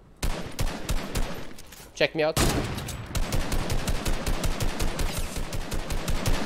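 Rapid bursts of gunfire from a Fortnite match crack out in dense volleys, loud and close, while players talk over the shooting.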